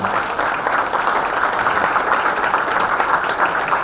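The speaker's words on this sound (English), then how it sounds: "Let's give a round of applause." Sustained applause from an audience at a technical project competition, a dense, even wash of many hands clapping continuously throughout with no talking over it.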